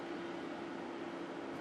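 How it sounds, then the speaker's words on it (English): Steady broadband whir of electric fans running, a constant even hum with no change in level and no other sounds. "I have a couple of fans"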